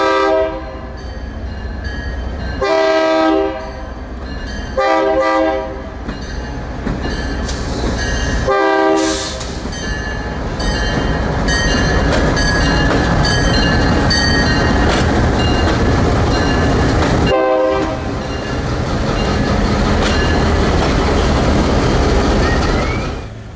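A loud horn blasts repeatedly in long bursts from two locomotives on a yard switching run in Torreón, Mexico, over steady rumble and clatter, with a bell ringing throughout.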